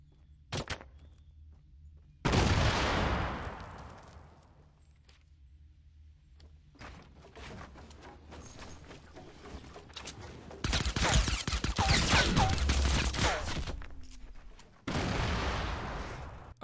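Gunfire in the video game Fortnite Battle Royale, heard as several loud, dense bursts of shots separated by quieter gaps with faint footsteps and movement; no speech.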